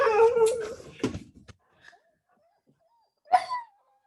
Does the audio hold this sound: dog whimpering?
yes